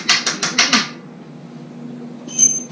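Five quick metallic hammer strikes on car frame parts during a rear end swap, in a steady rhythm, close and sharp, followed by a quiet pause and a brief high metallic ring.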